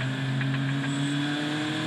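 A Mercedes GT race car engine during a one-hour GT race at Eastern Creek in 2011, a loud, sustained mid-pitched engine roar that holds steady with no talk, for just under two seconds.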